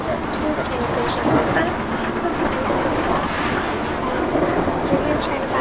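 Inside a moving train bound for Brighton, a loud steady rumble of wheels and carriage noise fills the space throughout, with faint clatter on top.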